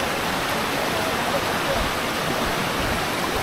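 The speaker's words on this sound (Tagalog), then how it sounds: "Kasi ragasa na talaga yung tubig." Rushing floodwater from a flood in Occidental Mindoro, Philippines: a steady, loud broadband roar of churning water that fills the whole clip without letup.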